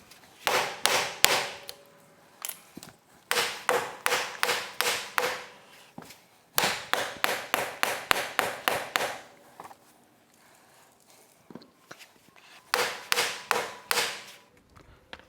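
Bursts of rapid metallic hammer blows on a Ford 7740 tractor's front hub during a seal replacement, struck in quick runs of about eight to ten hits separated by short pauses, close and sharp.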